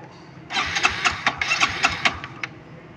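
A motorcycle on its center stand, with a suspected broken stator-to-regulator connection, cranks and catches, then runs with close, loud, rhythmic chugging pulses for about two seconds.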